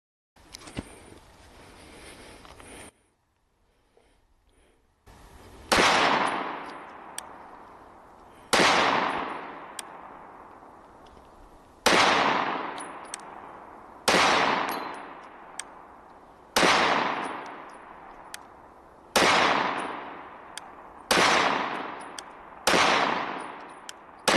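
A SIG Sauer P365 SAS compact pistol fires from a kneeling position, with a burst of shots at the start, a pause, then about ten evenly spaced, loud, sharp reports with ringing tails outdoors.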